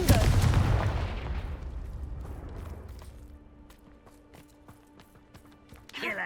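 A loud explosive blast from the Confringo fire spell in Hogwarts Legacy bursts at the start and decays into a rumbling tail, with faint scattered game effects and a sharp burst near the end.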